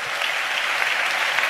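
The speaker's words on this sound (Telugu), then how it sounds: "చప్పట్లు కొడుతూ దేవునికి స్తోత్రాలు చెప్దాం" A church congregation clapping in praise to God, dense sustained applause from many hands, loud and even throughout.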